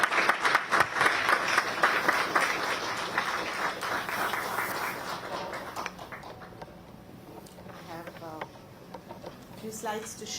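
An audience at an inauguration ceremony applauds in dense, steady clapping that is strongest at first and fades through the middle, with some voices near the end.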